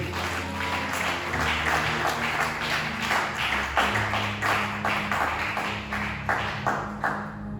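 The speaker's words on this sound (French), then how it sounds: "Acclame très fort pour le Seigneur" A congregation applauding during a Sunday thanksgiving church service, with sustained rhythmic clapping from many hands over a murmuring crowd and steady background music throughout.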